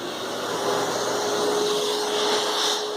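A Hoover Futura canister vacuum cleaner runs steadily nearby, giving off a continuous airy rush with a thin sustained motor whine that stays constant, with no talking.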